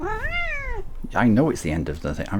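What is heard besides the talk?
cat meowing (the speaker's cat Dylan)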